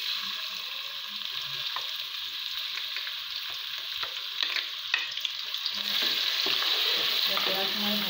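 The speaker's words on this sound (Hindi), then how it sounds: "ऑयल हमारा गर्म हो गया, अब इसमें प्याज ऐड करूंगी।" Onions hit hot oil in a pan while cooking brain masala, giving a steady, close hissing sizzle with occasional crackles and stirring scrapes, growing slightly louder toward the end.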